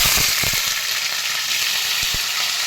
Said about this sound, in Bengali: আমি কড়াইতে তেল দিয়ে দিয়েছি, আর মাছের মাথাটা ভেজে